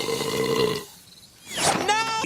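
A cartoon character in the animated Open Season: Call of Nature lets out a long, voiced burp, followed after a brief pause by a second rough, throaty belch, loud and close.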